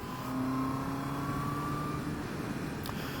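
A 2024 Honda CBR650R motorcycle engine hums steadily while riding, with a sustained tonal whine and wind rush under it, holding a fairly even, moderate level.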